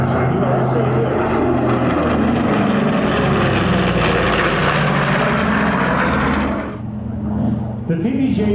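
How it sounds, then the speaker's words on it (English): A B-25 (PBJ) twin-engine bomber flies past at an airshow at Truckee Tahoe, its radial engines giving a loud, rough, continuous roar that swells and then fades near the end. "The PBJ today is being flown by Mike Holes and Roland Fogel."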